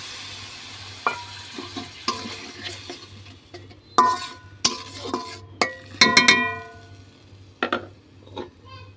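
Sizzling and stirring in a hot pan as water is added to frying masala for a katla fish bhuna, with scattered clinks and scrapes of a utensil against metal, a steady hiss underneath.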